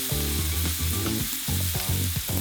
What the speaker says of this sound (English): I just love getting steaks in the pan.